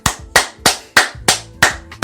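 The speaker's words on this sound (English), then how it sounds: "Can I get some booty clapping sounds?" Six sharp, loud slaps land in an even, brisk rhythm, each a crisp fleshy smack with a short decay, used as a comic booty-clapping effect, with no voices.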